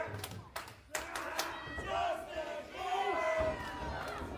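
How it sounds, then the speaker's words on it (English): Arena crowd at a women's wrestling match jeering a wrestler, a steady roar of many voices with shouts rising and falling and a few thuds, moderately loud throughout. "You hear the crowd antagonizing Baylor, but he has none of it."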